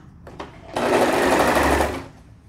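A sewing machine runs one steady burst of about a second and a half, stitching a knit sleeve onto a teen's pajama top. It sounds close and even, with a few faint clicks before it starts.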